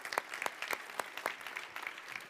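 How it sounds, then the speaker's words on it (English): Sparse, scattered hand claps from a small audience at a travel venture-investment executive panel, faint and somewhat distant, with individual claps standing out rather than a full ovation. "Big applause again, please."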